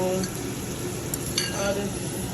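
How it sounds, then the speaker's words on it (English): Ingredients for Jamaican pepper steak tipped into a pot and frying, giving a steady sizzle with light stirring and a few clinks of utensil against pot. "I'm gonna go ahead and add in all these to the pot."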